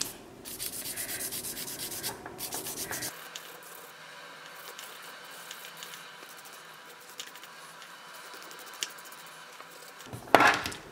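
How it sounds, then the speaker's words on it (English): Nail filing on a practice hand, a steady close scratchy rubbing of a file across the nail that runs through most of the stretch, with a louder handling knock near the end. "there really isn't much filing I need to do. But there's definitely some."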